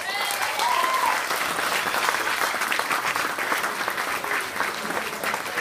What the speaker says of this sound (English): So give Birmingham a round of applause.